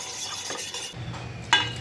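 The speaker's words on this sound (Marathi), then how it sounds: "आता सारखी ढवळत राहीन मी" A utensil scrapes and stirs through dal in a pot, a soft swishing motion with a quick clink near the end.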